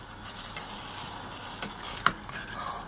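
Blanched broccoli, carrots and snap peas stirred in a pan, a soft sizzle under occasional light clicks and taps of a utensil against the pan, quiet and close.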